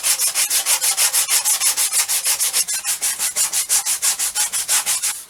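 Steady back-and-forth sanding of a dried fibre-reinforced filler surface with a sanding block, a loud, even rhythmic rasp of about five strokes per second, heard alone with no voices.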